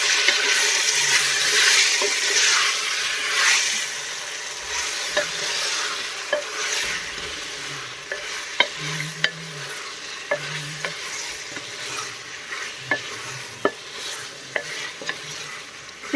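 Sliced lotus stem (nadir) frying in a pan for a Kashmiri recipe, a steady close sizzle with repeated scraping clicks and taps of a stirring utensil throughout, no talking.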